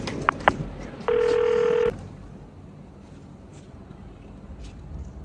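A phone is dialed with a couple of short key beeps followed by one steady electronic tone lasting nearly a second, then quiet room background.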